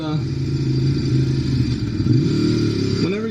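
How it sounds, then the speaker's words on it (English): A Ducati Monster 821 (2016) motorcycle engine rumbles close by, its low drone sagging and dropping in pitch as the engine bogs down while the bike slows. "letting the engine bog down when you're slowing down, the engine has a really cool sound."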